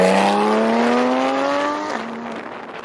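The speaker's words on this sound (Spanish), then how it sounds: "Les voy a dejar ahora un clip de cómo suena el carro para que tengan una idea." A high-revving 2016 Porsche 991.1 GT3 RS engine screams as it climbs in pitch, then shifts gear and settles, loud and close.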